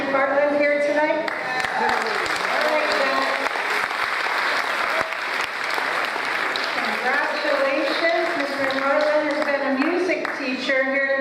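Sustained applause fills a board of education meeting room as the audience claps for a long-serving teacher retiring after 33 years, a dense, steady clatter of many hands with some voices mixed in throughout.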